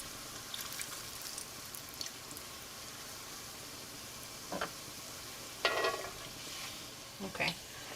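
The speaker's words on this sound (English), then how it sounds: "I love seeing the oil when it's frying like this" Soft, steady sizzling of masa corn dogs frying in hot oil, with a few brief louder crackles and pops standing out, no talking.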